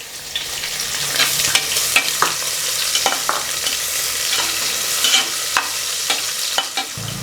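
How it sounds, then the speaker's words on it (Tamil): Sliced shallots frying in a pan with steady, close crackling sizzle and repeated stirring scrapes, no talking. "சின்ன வெங்காயமாக 3 எடுத்துருக்கிறேன், அதை போட்டுடலாம்."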